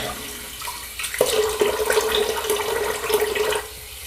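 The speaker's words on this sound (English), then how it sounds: "let's rinse off a little bit" Running tap water splashes steadily for a few seconds while shave soap is rinsed off, close and fairly loud, with no talking.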